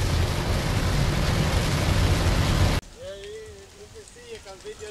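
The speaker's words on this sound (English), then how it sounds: "So this is what it looks like in Guyana when it rains." Heavy rain pours steadily at an outdoor village market in Guyana, a loud dense hiss that cuts off abruptly partway, leaving quieter ambience with a faint high tone.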